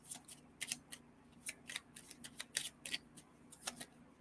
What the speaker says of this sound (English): I'm having like clumps of cards flip over.